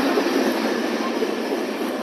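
Freight train in Central Maine & Quebec service rolling past as its final cars go by, a loud steady rumble and rail roar up close with no talking.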